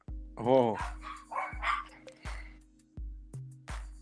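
Several dogs bark in short, repeated bursts at close range, about seven sharp barks spread across a few seconds, with some higher yips mixed in and a faint steady hum beneath.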